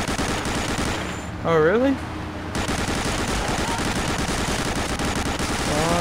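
Sustained rapid machine-gun fire in the video game Medal of Honor: Allied Assault keeps a dense rattling barrage going almost throughout, with someone talking over it.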